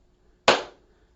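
A single sharp hand clap during a seated brain-exercise class for older adults, crisp and close, with a short decaying tail and silence on either side.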